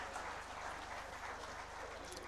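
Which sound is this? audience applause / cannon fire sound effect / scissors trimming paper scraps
audience applause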